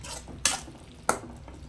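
Spoon stirring salt into tomato rice in a pan, with two sharp, brief clinks of metal against the pan over a quiet background of soft scraping.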